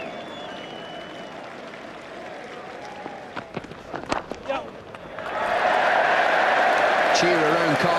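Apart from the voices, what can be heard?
cricket crowd cheering and applauding at Cardiff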